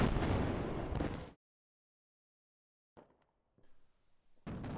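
Loud fireworks bursts crackle and boom at the start, cut to silence, then quieter scattered pops and crackles follow before another loud burst at the end.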